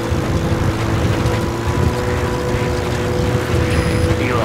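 Helicopter in the video game Metal Gear Solid 5, a loud, steady rotor and engine drone that holds constant throughout with no voices.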